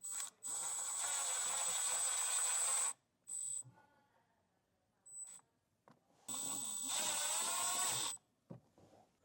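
Self-tapping screws driven into a small trailer brake controller mounting bracket with a power driver: two sustained whirring bursts of a few seconds each, close and fairly loud, separated by short clicks and quiet pauses.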